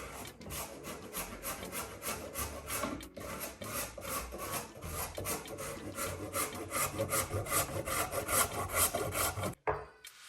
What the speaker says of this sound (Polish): ja muszę sobie zetrzeć najpierw ten cukier, który mam i zetrę go w całości